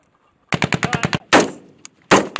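Rapid machine-gun bursts and heavy gunshots during Marine Corps field training, a fast string of loud close rounds followed by a few separate blasts, heard alone.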